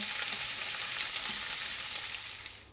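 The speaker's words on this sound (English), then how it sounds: "Just sauteing the potatoes now." Potatoes sauté in a hot pan, a steady close sizzle and crackle of frying that holds evenly before fading out at the end, with no talk.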